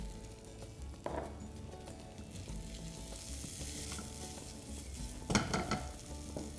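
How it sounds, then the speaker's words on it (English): Crushed corn sizzles as it is tipped into a hot pan with roasted cumin and coriander powder, a steady fry broken by two louder bursts of stirring and scraping. "in this, we're going to tip in our crushed corn"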